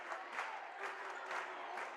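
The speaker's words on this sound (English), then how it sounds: "John Glenn fans up clapping" Fans of the John Glenn Muskies clap steadily in a high school boys basketball gym during a game against Indian Valley, with crowd claps pulsing in rhythmic bursts close by, and no voices stand out.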